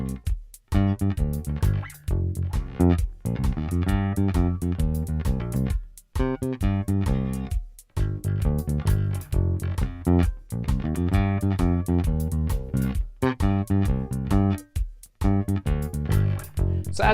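An offbeat reggae bass line plays as repeated short, punchy notes in a steady groove, with regular gaps between phrases and no talk.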